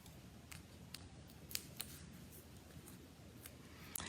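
Adhesive backing peeled off a piece while making Stampin' Up! flower cards, faint close crinkles and a few sharp snaps and clicks over a quiet background.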